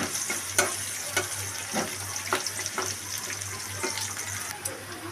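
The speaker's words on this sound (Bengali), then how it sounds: "তেল দিয়েছি আমি, পেঁয়াজ কাঁচামরিচ দিচ্ছি অল্প করে।" Onion and green chili frying in oil in a pan, a steady close sizzle broken by several sharp scraping stirs of a spatula, with a low constant hum beneath.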